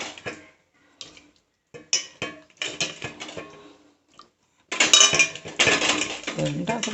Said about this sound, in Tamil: மீனை போட்டுக்கலாம்.